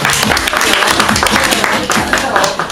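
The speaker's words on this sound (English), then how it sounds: "Give our volunteers a clap." A crowd at an iPad demo claps loudly for volunteers in a dense burst of applause, with voices mixed in.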